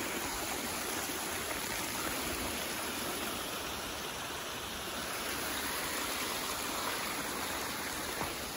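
Stream water flows steadily on a hillside path in the Darjeeling area, a continuous close rushing and gurgling wash that stays even throughout with no voices.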